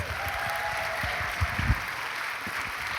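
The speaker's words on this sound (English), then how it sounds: "Give him a round of applause." A steady wash of audience clapping fills a large hall in Glasgow as David Munn is introduced at a final celebration weekend, dense and continuous with a few louder claps near the middle.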